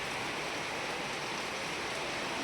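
Very heavy rain pours down on a flooded road, a dense, unbroken hiss of water at constant loudness with no talking.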